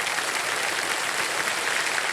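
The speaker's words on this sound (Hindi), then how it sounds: "एक बार जोरदार तालियां फिर से बज जाए इनके लिए।" A KBC game-show studio audience keeps up a thick, even wash of applause, sustained and fairly loud throughout, with no voices standing out.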